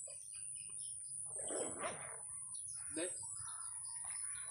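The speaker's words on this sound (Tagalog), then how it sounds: "Maraming ibon, no." Birds call and chirp by a lake in Alabel, Sarangani Province, in short bursts, a few squawky notes rising over a steady high hiss and low background rumble.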